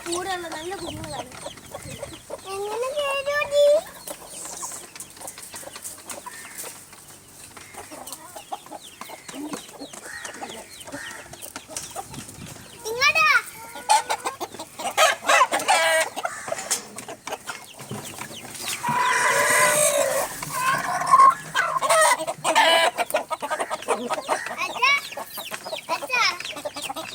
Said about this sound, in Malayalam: ഫാൻസി കോഴികളുടെ കുഞ്ഞുങ്ങളാണ്